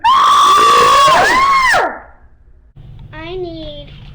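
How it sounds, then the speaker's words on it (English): Children scream in slowed-down playback, the drawn-out, low-pitched wails bending and sliding for nearly two seconds, followed by a quieter gap and then another stretched, warbling voice over a low hum. "And our scream in slow mode."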